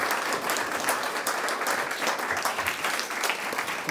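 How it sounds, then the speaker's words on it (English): An audience applauding author Michael Morpurgo in a small attic venue, thick continuous clapping at a steady level from start to finish, close and full with no talking. "we just need to give Michael a huge round of applause"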